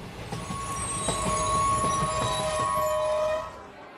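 A train runs steadily in a cartoon soundtrack, wheels rumbling with a brief high squeal of steel on rail partway through, loud and continuous before easing off near the end; no passenger chatter is audible.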